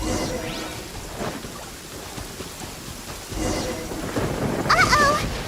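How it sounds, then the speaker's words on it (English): A lightning storm in the video game Genshin Impact: steady rain with rolling thunder rumbles that swell twice, a brief whooshing sweep and a faint tonal game chime near the end, with no speech. "Uh-oh! Lightning storm!"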